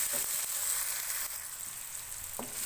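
Tomatoes frying in a pan over a medium flame give a steady, close hiss of sizzling throughout, with a faint clink near the end.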